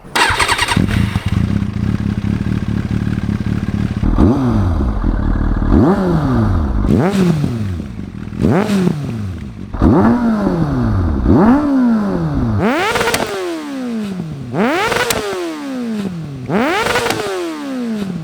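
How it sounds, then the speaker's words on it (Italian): A 2002 Kawasaki Ninja 636 with an Akrapovic exhaust starting and revving hard, idling and then rising in a series of sharp throttle blips that climb and fall, loud and close with no talk. "E sentiamo il 636 di Marietto con scarico Akrapovic."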